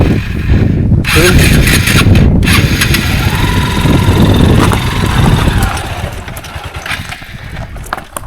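A scooter on a trail through dense forest toward Rajmachi Fort gets cranked but fails to start, giving a loud, continuous, rough engine roar that eases off toward the end.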